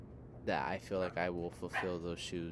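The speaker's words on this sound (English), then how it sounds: "sorry about the dog barking." A dog yips and whimpers in short bursts close by, sounding under steady talking that runs through the whole moment.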